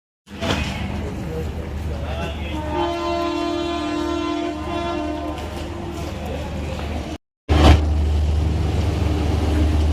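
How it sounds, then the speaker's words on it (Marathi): A passenger train at Khed railway station sounds a long, steady horn blast over a low rumble of rolling carriages, followed after a brief gap by a heavy, close, continuous roar of the train passing. "ट्रेन बघू शकता तुम्ही"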